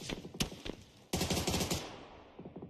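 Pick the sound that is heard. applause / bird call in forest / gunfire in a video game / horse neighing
gunfire in a video game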